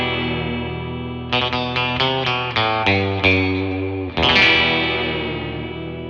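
Fender Jaguar electric guitar strummed through distortion, a sustained chord, then a run of repeated chord hits, then another held chord as the strangle tone-cut switch changes the sound.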